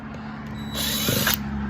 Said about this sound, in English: So you can get the drill out.